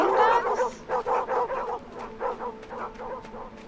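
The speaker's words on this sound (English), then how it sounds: "Are they like hunting dogs?" Several dogs bark and yip in the Endling video game, a run of short, loud barks in a steady rhythm, close at first and trailing off slightly, with no talk over them.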